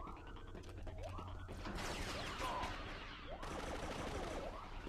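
Precision pistol fire in Star Wars Battlefront 2 amid a dense, loud battle mix of blaster shots, crashes and rumbling explosions layered continuously with no pause.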